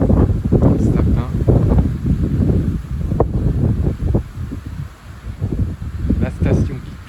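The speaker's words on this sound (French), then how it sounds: "J'essaye de vous capturer quelques rafales dans le sapin." Storm Darragh gusts roar through a fir tree, a loud continuous rushing of wind with microphone buffeting and rustling needles, rising and easing in surges close to the recorder.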